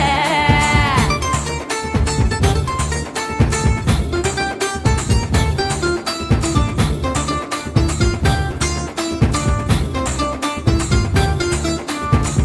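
A goat bleats with a wavering, quavering cry in the opening second, then dense music with a steady beat takes over for the rest of the stretch.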